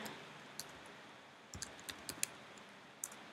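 A web search is typed on a computer keyboard, a few light scattered clicks and taps spread over several seconds, close but faint against a low hiss, with no one speaking.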